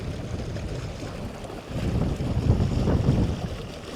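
A fishing boat cruising into the wind under electric trolling motor, with steady low rumbling wind and water noise buffeting the microphone and swelling slightly in the second half, no speech.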